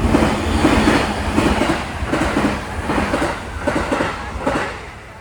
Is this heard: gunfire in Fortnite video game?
no